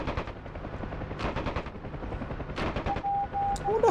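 Bursts of machine gun fire from a UH-1 Huey helicopter in the DCS flight simulator, several rapid rattling volleys over the helicopter's droning rotor and engine noise, with a short electronic tone near the end.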